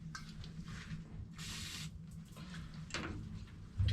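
Brake cleaner sprays from an aerosol can onto a Vanos seal ring from a BMW E46 M3 engine, a short, fairly faint hiss with a softer puff moments later over quiet workshop background.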